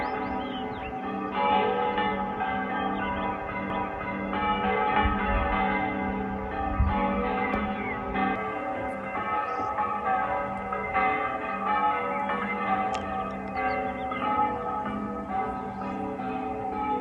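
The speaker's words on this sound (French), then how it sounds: "Je vois les cloches qui se balancent dans le clocher." Church bells swinging in a bell tower in Chulilla, Spain, ring out with layered, sustained tones heard from a distance, steady over outdoor ambience.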